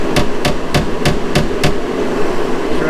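Six sharp knocks at a steady rhythm, close and loud, as a C7 Corvette's window frame strikes the door shell, then a low rumble continues alone.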